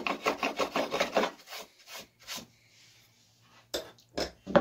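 Chisel paring wood down to a stop dado level, a quick burst of close scraping strokes followed by a pause and a few more separate rasping shaves, with no talking.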